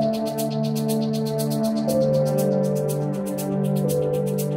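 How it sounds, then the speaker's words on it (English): Suspense variation of adaptive video game music: sustained low drone chords shifting pitch under a steady, pulsing high ticking pattern, tense and continuous with no voices. "but for suspense, I want you to crossfade into a different version that sounds like this."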